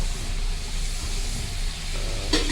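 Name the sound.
butter melting and sizzling in a pan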